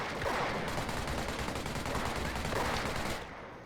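Dense, continuous machine gun fire crackles in the World War II strategy game Company of Heroes, a sustained loud rattle of rapid shots that drops off abruptly near the end.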